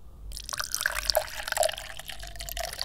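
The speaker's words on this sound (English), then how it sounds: "And that's the pouring water." Water pours from a sound-effects clip, a steady splashing stream with scattered drips and bubbly trickles, close and clear with no talk.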